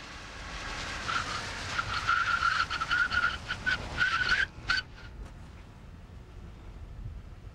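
Police car braking hard with anti-lock brakes, tires giving a pulsing chirp that stutters in rapid bursts for about three seconds before the car stops and the sound falls away to a quiet hum.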